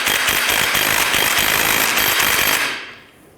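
An impact-type power tool hammers rapidly and loudly on the control arm bushing nut of a 2009–2015 Honda Pilot, running close up for nearly three seconds before winding down and stopping.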